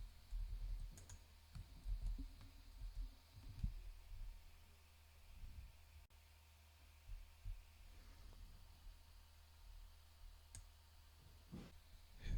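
Quiet keystrokes on a computer keyboard tap out a command in short bursts of clicks, separated by pauses, over a low steady room hum.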